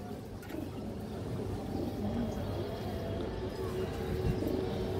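Fancy high-flyer pigeons in a loft give soft, low cooing calls that repeat intermittently over a steady background hum.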